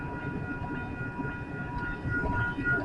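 Westbound freight train rolling past close by, a loud continuous rumble with a faint steady tonal whine riding over it and no break through the short stretch.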